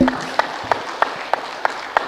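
Slow, evenly spaced hand claps, about six sharp strikes over two seconds, sound in a quiet room during a spiritual meditation session, with a faint murmur behind them.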